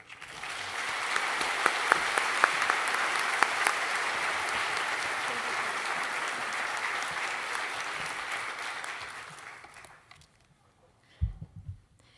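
Sustained audience applause at the CSULB 2018 convocation, a dense steady clapping crowd lasting about ten seconds as a speaker is welcomed to the stage, then fading out before a brief low thump.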